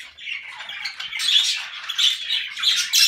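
Pet bird in a home breeding setup giving harsh squawking calls in a few rapid, close, fairly loud bursts with no other sound.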